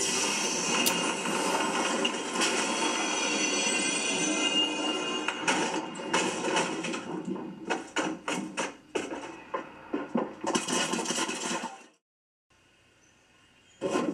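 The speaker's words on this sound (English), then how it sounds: "when I finally open the golden chest, the pitch gets louder and it bursts open in a celebratory manner" A dense mechanical video game sound effect of a golden chest opening builds with rising tones, then breaks into a run of sharp bursts and clatters before cutting to near silence.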